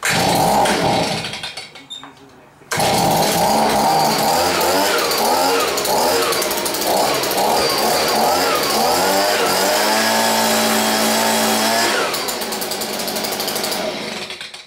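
A Honda Harmony HRS216 walk-behind lawn mower engine is pulled over, catches after a short pause and runs loud and close with a rough, steady drone, then its note shifts near the end.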